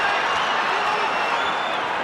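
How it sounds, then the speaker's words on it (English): Boxing crowd at a bout, a dense, steady wash of cheering and applause at close range with no clear breaks. "Crowd's loving it."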